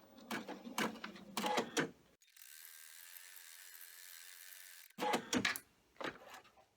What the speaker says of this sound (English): I have run the placement stitch